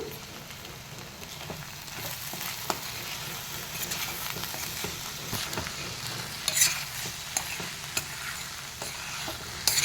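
Methi toor dal curry being stirred in a hot pan after salt and chili powder are added, a steady close sizzle broken by repeated scraping clicks of the spoon against the pan.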